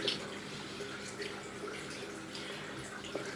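Face cloth rinsed in a basin of water during a skincare routine, soft sloshing and dripping close by, a continuous gentle watery wash with a few small splashes and no talking.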